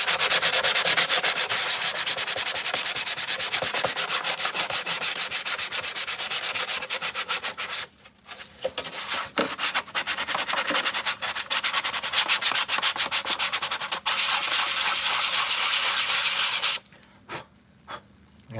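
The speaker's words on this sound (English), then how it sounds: "let's go to a little block sanding, hand block sanding." Armor is hand block sanded with 100 grit sandpaper in long continuous abrasive rubbing strokes, close and loud, with brief pauses between passes and no talking.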